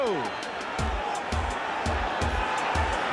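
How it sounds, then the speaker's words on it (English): A boxing arena crowd roars without letup at a Nigel Benn vs Gerald McClellan fight, a dense wall of cheering punctuated by regular low thumps across the whole stretch. "the crowd is absolutely going wild here"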